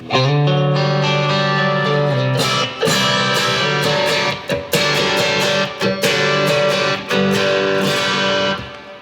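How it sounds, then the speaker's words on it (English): Distorted electric guitar chords through a Quad Cortex ring out with heavy hall reverb, sustained strums and sharp stabs trailing into a long, washy decay. "That's a lot of reverb."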